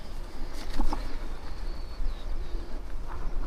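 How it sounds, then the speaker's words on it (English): Countryside birds sing and a pigeon or dove coos during a spring bike ride near Bath, soft and mid-distance over steady wind noise. "Just hear bird song everywhere."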